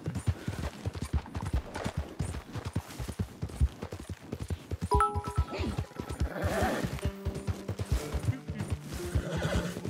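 A horse in the Red Dead Redemption 2 video game whinnies loudly over rapid clip-clopping hooves and busy game sounds, with other faint in-game noise around it.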